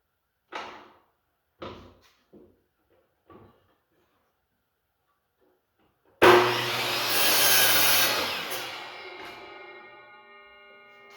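Wood being sawn for the leg of a motorcycle repair stand, a loud burst of cutting that starts after a few quiet taps and clicks and then rings and fades out.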